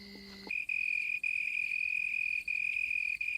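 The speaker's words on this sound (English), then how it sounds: "The leaf is the cricket's soundboard, and the sound produced is magnified in intensity as much as 3 times." A cricket chirping from a leaf during an African night, a loud, close, sustained high trill that runs almost unbroken, pausing only for a few brief breaks after other tones fall away at the start.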